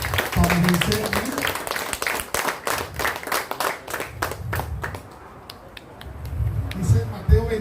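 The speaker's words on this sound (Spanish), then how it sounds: "¿No le das un fuerte aplauso a Jesús?" A church congregation breaks into loud rhythmic clapping that fades after several seconds, with speech and voices mixed in around it.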